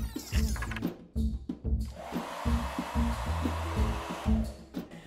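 A hair dryer whirs steadily, its airy hiss rising partway through, with a low mechanical hum and a few short thumps underneath.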